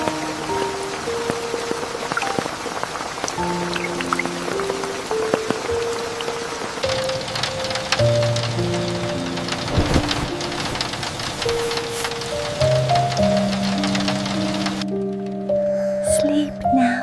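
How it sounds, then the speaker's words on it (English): Slow rain falls on the countryside in a soft, steady patter that runs the full length beneath gentle sustained musical tones, with no clear voices over it. "The rain will sing you to sleep."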